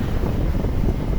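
Strong wind sweeps across the dolomite sand beach on Manila Bay, a steady, loud buffeting roar that fills the whole clip with no voices.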